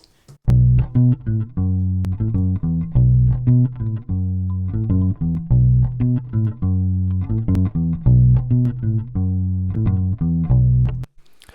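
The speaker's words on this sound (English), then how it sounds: "This is just a simple bass loop." A clean electric bass guitar, played through an Apollo Twin instrument input, plays a repeating melodic riff, plucked notes in a steady groove looping over and over, alone with no talking.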